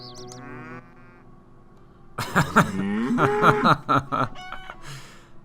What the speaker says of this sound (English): Look here, our champion cow.